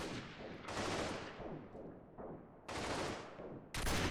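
Sustained gunfire in the video game Freeman: Guerrilla Warfare, dense bursts of automatic shots that stop and restart, loud and steady, with no voices.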